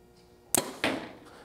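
An archery hinge release gives a sharp mechanical click, followed moments later by the snapping thud of the arrow firing, both brief and close, over faint background hiss.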